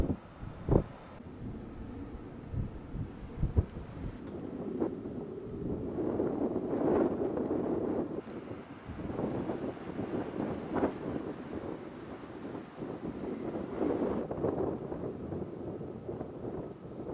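Gusty desert wind in Joshua Tree National Park, California, buffeting the microphone in uneven rumbling waves, with a few faint knocks near the start and no voices.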